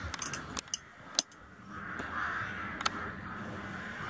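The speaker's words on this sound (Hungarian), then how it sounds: "Madarak! Ezek varjak mind?" Crows caw in a few short, scattered, fairly loud calls over a steady outdoor background hiss, with gaps between each burst.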